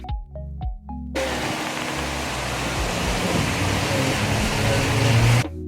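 Heavy rain pours down in Dominica, a dense, loud, steady hiss after a few brief tapping sounds at the start, cutting off abruptly near the end.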